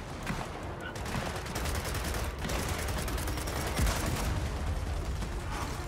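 Dense, sustained gunfire from the Gears of War 4 campaign rattles on for several seconds, bursts overlapping into a continuous loud barrage with mechanical clatter and an occasional faint voice underneath.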